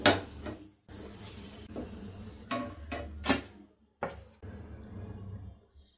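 Cooked meal maker pieces lifted from a pan onto a serving plate, with several close metal scrapes and clinks of a utensil against cookware and a faint sizzle between them.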